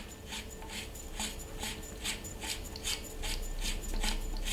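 Part of a Snowpeak M25 PCP air rifle being unscrewed, giving a quiet, rhythmic scraping rasp of threads that repeats in quick strokes over a soft background hiss.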